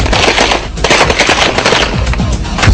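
An MP5 submachine gun firing during infantry close-quarters drills: continuous loud, dense automatic bursts with rapid overlapping reports filling the whole stretch, close and harsh.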